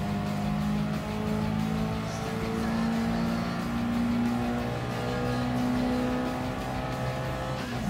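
A race car engine in Gran Turismo Sport drones loudly and continuously, holding high revs with slight pitch shifts through corners and no voices over it.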